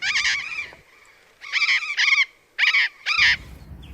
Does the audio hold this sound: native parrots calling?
yes